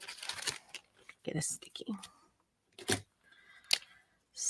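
A 6.5-inch piece of craft material is cut with scissors in short crisp snips and rustling bursts between speech, close and fairly quiet.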